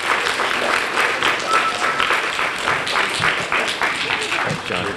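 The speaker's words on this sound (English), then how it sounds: "Let's give him a round of applause" Audience applause at a school event fills the room steadily for several seconds, dense clapping with some voices and cheers mixed in.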